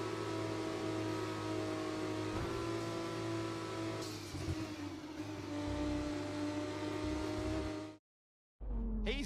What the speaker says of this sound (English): Ollie Bearman is coming up to the line to win yet again in P1.